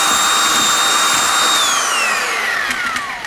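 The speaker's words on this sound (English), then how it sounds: "I'm mixing this mortar dry so that it will be consistent all the way through." A power drill fitted with a paddle mixer churns dry mortar in a pail, a loud, steady whine that holds for a moment and then drops in pitch as the motor slows, continuous with no talking.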